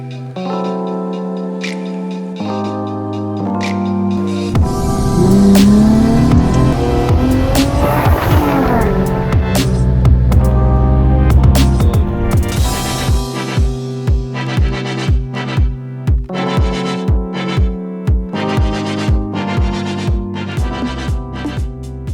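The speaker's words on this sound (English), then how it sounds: "just listen to that VQ35 roar" A loud Nissan 370Z VQ35 V6 sports car engine revs and roars close by, rising and falling with sharp throttle blips, then settles into a rhythmic pulsing idle-like burble.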